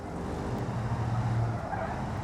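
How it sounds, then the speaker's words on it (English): Ambient road traffic in the BeamNG driving game forms a steady, fairly loud rumbling wash of vehicle noise with no talk. "I can hear traffic"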